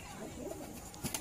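A domestic pigeon in a loft setup gives a soft, low, rolling coo, faint and brief against quiet background noise.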